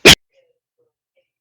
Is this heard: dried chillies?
no